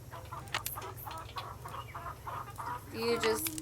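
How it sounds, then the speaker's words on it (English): Chickens in the video game Nancy Drew: The Secret of Shadow Ranch cluck in a series of short, close calls over a steady low hum, with a brighter squawk near the end. "Aw, Kawaii Coco, you have chickens? Chickens"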